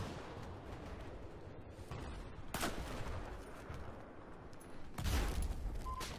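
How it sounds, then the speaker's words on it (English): Gunfire in the Battlefield 4 video game, a mix of fast rifle and machine-gun bursts, comes from mid-distance with two louder sharp blasts standing out, and no one speaks. "Oh, someone's shooting at us."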